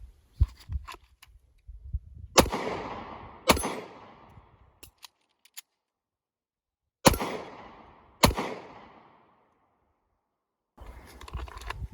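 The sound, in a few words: gunshots from a handgun at target practice, with reload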